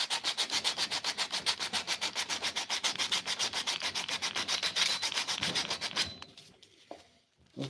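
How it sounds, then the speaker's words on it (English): A flush cut saw handle is rubbed with 100 grit sandpaper in fast, even back-and-forth strokes, close and continuous for about six seconds, then the sanding stops and only faint handling noises remain. "I'm surprised at how well this sandpaper's doing."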